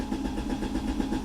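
Brief, rapid chugging of a car engine cranking on the starter, a steady pulsing rhythm heard up close with no voices.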